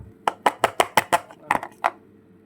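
A knife chops bell pepper for bourek: about nine crisp, evenly spaced cuts on a board, close and loud, with a short pause before the last few strokes.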